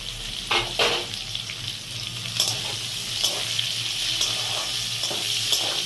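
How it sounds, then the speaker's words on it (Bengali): Sliced onion, garlic and whole garam masala spices fry in oil in a pan, producing a close, crackling sizzle broken by bursts of stirring and scraping. "একটু ভাজাভাজি হোক"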